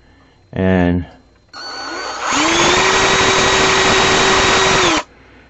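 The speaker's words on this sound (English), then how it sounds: "Next, I'm going to attach the shaft to an electric drill" An electric drill spins the shaft of a scale RC boat bow thruster, whirring loudly, first in a short burst, then spinning up to a steady high-pitched whine for several seconds before cutting off.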